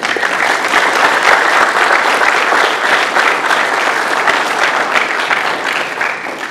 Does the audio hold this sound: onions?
no